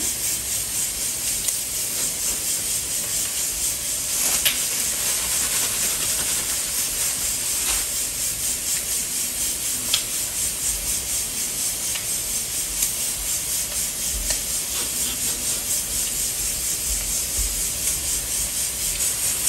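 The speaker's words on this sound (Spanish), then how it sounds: "Y lo vamos a pasar al aceite." A breaded fish fillet coated in ground breadcrumbs fries in hot oil with a steady, loud, dense sizzle and hiss that holds without a break from start to end, with no talking.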